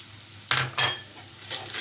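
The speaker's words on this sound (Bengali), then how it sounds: "ভালোভাবে নেড়ে চেড়ে নেব।" Onions and ground spices (salt, turmeric, red chili, cumin, black pepper) are stirred in a hot pan for dal, giving two sharp scraping sizzles and then a softer stir over a steady low hiss.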